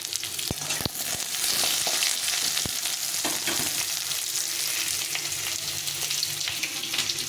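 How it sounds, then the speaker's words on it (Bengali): Jackfruit seeds and potatoes fry in hot oil in a pan, a steady dense sizzle with occasional sharp pops and clicks of stirring, close and continuous without talk. "এখন আমি দিয়ে দেবো এর কাঁঠালের দানাগুলো দিয়ে দেবো, এগুলো একটু ভেজে নেবো"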